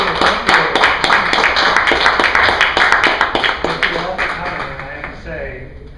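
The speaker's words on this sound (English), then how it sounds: "Please give him a big round of applause." Applause from the audience at a Coney Island USA lecture, brisk mixed clapping at close range that thins and fades toward the end, with some voices mixed in.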